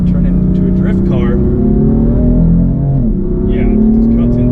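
A tuned Stage 1 BMW M4 F82 engine pulls hard under throttle inside the car, a loud steady drone with rising harmonics, while someone talks over it.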